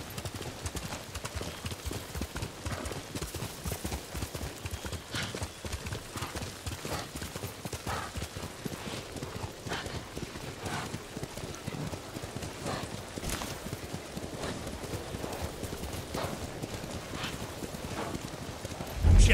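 Horse hooves in Ghost of Tsushima clip-clop in a steady, quick trotting rhythm that runs throughout, close and moderately loud, with soft wind or rain behind and a brief louder thump at the very end.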